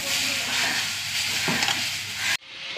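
Steady, loud sizzling hiss of okra stir-fry being stirred and roasted in a hot pan, with faint scraping of the stirring running under it, then cutting off abruptly near the end.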